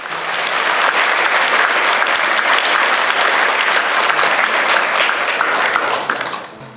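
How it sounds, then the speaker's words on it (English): A large audience at a public Buddhist talk at CUHK, Hong Kong, welcomes Ajahn Brahm with loud, full applause, sustained evenly before dropping off at the end. "please join me in welcoming Ajahn Brahm by giving him a round of applause"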